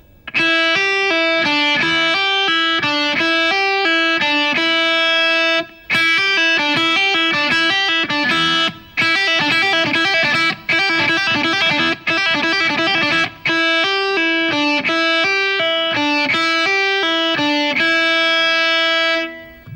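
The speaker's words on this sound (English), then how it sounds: "So that was a short lick using hammer-ons and pull-offs." Distorted electric guitar playing a short lick built on hammer-ons and pull-offs, repeated several times in loud, steady runs of notes with brief gaps between phrases.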